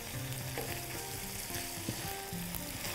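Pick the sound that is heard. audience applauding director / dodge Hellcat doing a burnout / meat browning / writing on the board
meat browning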